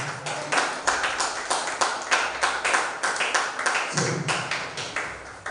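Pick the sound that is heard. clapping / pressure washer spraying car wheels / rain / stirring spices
clapping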